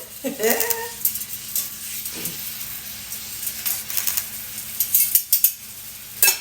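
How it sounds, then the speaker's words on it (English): A steak sizzles in a hot pan with a crackling hiss, over which a person speaks briefly; louder spits and pops flare near the end. "Get our first steak in there. Love that sizzling sound."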